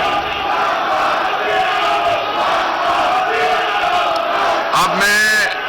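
Opposition party members chant slogans in a parliament chamber, a dense crowd roar of many voices sustained throughout, with a sharper shout rising near the end.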